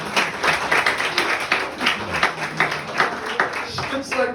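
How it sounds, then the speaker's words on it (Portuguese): A church congregation at a youth service applauds, a dense steady patter of many hands clapping at moderate distance, with speech mixed in underneath. "Aplaude a Jesus aí pela vida do Marcelo."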